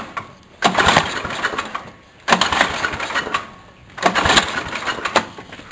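An old snowblower engine is cranked over and over: three loud bursts of rough mechanical churning, each lasting over a second, separated by short pauses, close and without voices.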